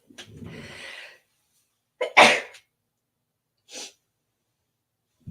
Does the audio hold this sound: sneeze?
yes